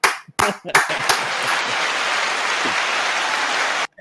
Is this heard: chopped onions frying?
no